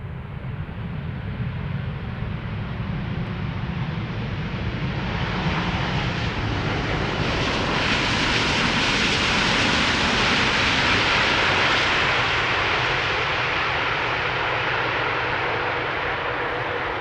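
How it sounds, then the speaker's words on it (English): KLM Boeing 787-10 Dreamliner arriving at Amsterdam Schiphol Airport on its return flight from Cartagena, a loud continuous jet roar that swells as it passes close by, then slowly fades while staying strong, with no voices. "This is KLM Flight 741, 787-10 Dreamliner, returning from Cartagena."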